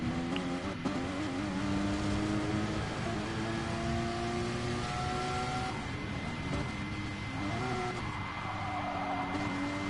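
Race cars in Gran Turismo Sport, a GT4 league race, roar past one another with high revving engines, rising and falling pitch and shifting gears, loud and continuous.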